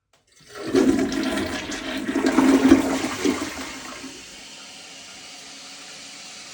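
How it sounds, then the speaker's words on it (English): A newly installed, freshly replaced household toilet flushes once, with a rushing swirl of water lasting about three seconds. It settles into a quiet hiss as the tank refills, close by and with no talk. "Here's our flush handle. We're gonna go ahead and lift this up and we're gonna watch this baby do its job for the very first time."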